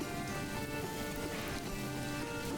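Steady rain falling in the medieval city-building game Manor Lords, a dense even patter of drops on surfaces with a soft ambient bed underneath, continuous and fairly quiet.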